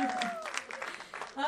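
An audience at a film first-look event applauds in welcome for the film's director, a short burst of clapping heard beneath and between a presenter's voice.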